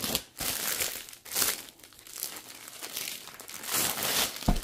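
Plastic kit packaging being torn open and crinkled by hand, with several loud ripping and crumpling bursts up close and softer rustling in between.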